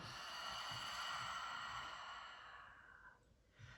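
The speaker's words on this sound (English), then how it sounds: "inhale, open your mouth and fully exhale" A slow, soft exhale through an open mouth during a yoga breathing exercise, one long sighing breath fading near the end, quiet and close.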